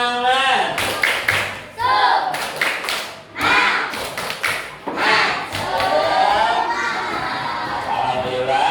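Classroom of children doing a rhythmic spirit clap (tepuk semangat), with bursts of patterned clapping mixed with children's shouting and voices, fairly loud and close throughout.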